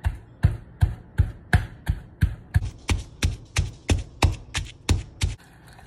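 Chili is smashed in a mortar for a Cambodian sauce, giving about sixteen sharp, evenly spaced pounding thuds, close and fairly loud, that stop abruptly.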